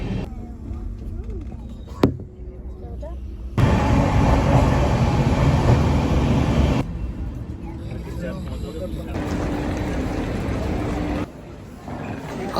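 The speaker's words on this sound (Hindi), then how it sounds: "और ट्रेन की यात्रा साडी शुरू।" Train ride on a railway with a sustained loud rumble of the carriages rolling along the track, steady through most of the stretch with a sharp knock near the start and shifts in intensity, alone without talk.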